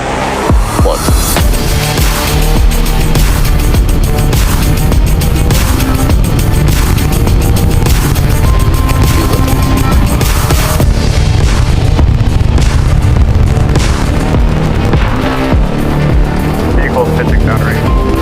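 A SpaceX Starship rocket lifting off on its eleventh flight, engines igniting into a loud, continuous broadband roar that rumbles steadily throughout and eases slightly toward the end.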